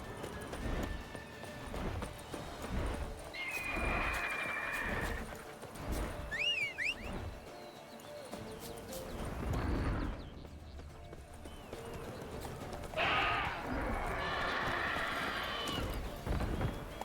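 Horse hooves clip-clopping at a gallop in The Witcher 3, a steady run under game music and combat effects, with a brief whinny-like cry and occasional swells of other in-game sound.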